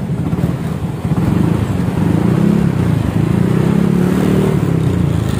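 A Yamaha Aerox 155 scooter fitted with a stainless header and silencer revs up and holds high engine speed, a loud, close, rising growl that stays steady.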